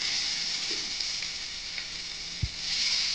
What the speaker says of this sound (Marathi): आता त्या तळून दाखवते